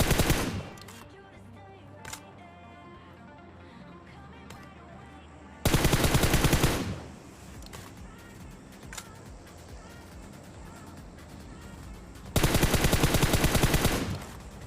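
Automatic gunfire in PUBG Mobile during a squad fight comes as two loud rapid bursts, each lasting about a second, with quieter game ambience and scattered distant shots between them.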